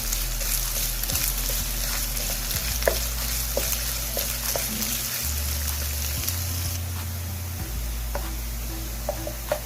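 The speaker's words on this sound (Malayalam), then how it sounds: "നമുക്കിനി അതിലേക്ക് ഇഞ്ചി ഇട്ട് വഴറ്റിയെടുക്കാം." Onion and ginger sauté in a pan for Kerala-style chicken sausage cutlets, giving a steady close sizzle with occasional light stirring taps throughout and no speech.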